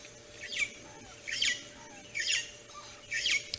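Four harsh, scratchy bird alarm calls, raised at a nearby leopard, ring out at steady intervals, fairly faint against a quiet outdoor background with a low hum.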